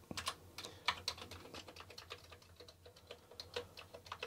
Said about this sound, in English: I'm barely touching the keys now, so they all work